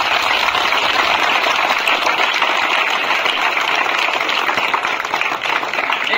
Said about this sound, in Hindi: बस एक बार तालियां इनके लिए, लॉ के लिए